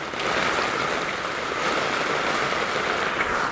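Knee-deep flood water inside a house during a flood, a steady broadband rushing and sloshing wash that fills the short stretch evenly, with no voices.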